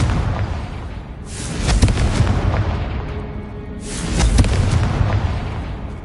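A Confringo spell blast in Hogwarts Legacy erupts twice, once near 1.2 seconds and again near 3.8 seconds, each a loud, bright, booming burst that rolls on for about a second before fading.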